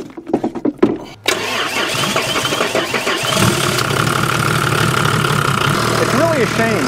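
A Volvo 740's engine cranks with a few uneven turnover pulses, fires up and settles into a steady, close idle with a rough, mid-pitched hum, and a brief voice can be heard at the start.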